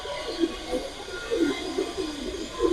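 A pair of long-necked pigeons coos in low, repeated murmurs at moderate distance, with no talk over them.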